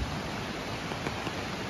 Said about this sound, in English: So, it's raining right now.